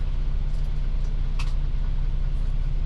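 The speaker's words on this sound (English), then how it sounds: "Hubby can't hear me with the truck running." A steady low diesel engine rumble from a semi truck idling nearby, constant and droning with no variation.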